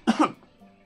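A single close cough, two quick harsh bursts in succession, followed by a faint quiet tail.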